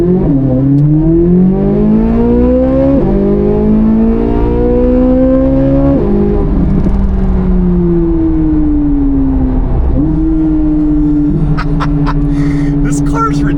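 An Audi R8 V10+ or C8 Corvette Z06 sports car accelerates hard on a track, its engine pitch climbing and dropping sharply at each rapid gear shift, loud and close, with no talk over the engine.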